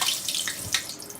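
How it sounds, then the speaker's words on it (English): Water runs from a tap in a home kitchen where honey BBQ chicken is being made, a steady splashing hiss with small bursts, moderately close and alone. "Look at the water going."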